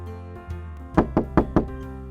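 Four sharp knocks on a door in quick succession, loud and close, following softer taps, with a steady low hum in the background and no speech.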